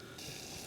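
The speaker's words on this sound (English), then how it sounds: "Just add water." Water gushes steadily from a tap or pouring stream for porridge at a campsite breakfast near Hallin Fell, Ullswater; a close, continuous hissing splash with no talk.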